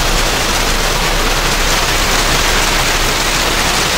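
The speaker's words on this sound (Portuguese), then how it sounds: "Olha a chuva." Heavy rain pouring down outside a house during a storm, a loud, dense, unbroken hiss of falling water with no voices over it.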